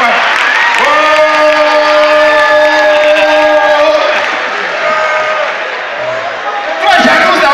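A crowd cheers and applauds loudly and close by, and a sustained voiced shout rises over the din. The noise eases into steady clapping and murmur, then swells again near the end.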